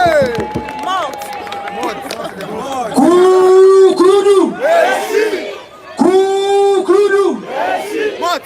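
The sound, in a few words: student crowd cheering and applauding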